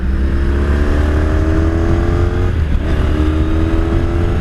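A 1983 Honda Sabre V45 VF750S motorcycle being ridden: a steady, loud V4 engine drone with harmonic whine, a brief dip around mid-clip like a gear change, then continuing at speed.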